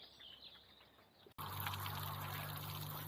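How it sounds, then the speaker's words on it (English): Rainwater being emptied out of a boat, a faint trickle that breaks off, then a loud, steady pouring splash of water close by. "I'm just emptying the water out. There's quite a lot of water in there."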